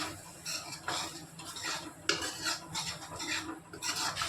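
A spoon whisks yogurt in a bowl while a pumpkin (petha) dish is being made. Close, rhythmic scraping and clinking strokes repeat at a steady pace, with no talking.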